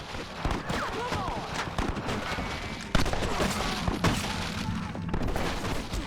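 Rifle shots in Red Dead Redemption, a Western video game, crack out amid a dense, noisy gunfight with other gunfire and ambient clatter throughout, one sharper loud report standing out midway.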